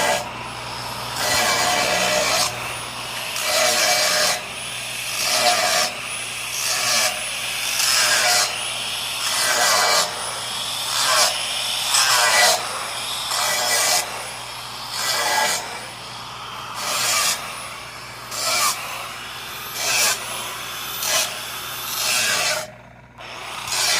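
Angle grinder rasping away a weld tack on a slammed body-gap repair, a loud continuous abrasive grind that pulses in repeated passes over about twenty-four seconds, with a steady low hum underneath and a brief break near the end.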